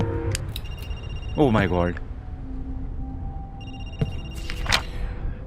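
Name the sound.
phone ringing in a horror video game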